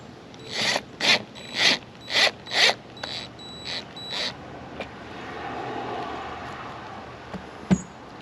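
A screw driven in with a power driver while mounting an RV camera: five short loud whirring bursts in quick rhythm, then a few fainter ones, then a quiet stretch with one sharp click.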